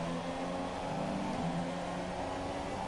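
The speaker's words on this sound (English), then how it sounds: "Man, look at how that thing accelerated off the corner." Formula 1 car engine in F1 2017 at the Malaysian Grand Prix, a steady high-pitched whine as the car accelerates off a corner, held at an even moderate level throughout.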